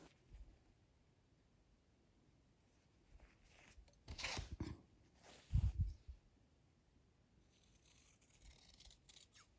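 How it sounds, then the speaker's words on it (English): Fabric shears snip away a shirt dress's seam allowance in two or three quiet, brief cuts close by, with near-silence around them. "cut away the rest of the seam allowance"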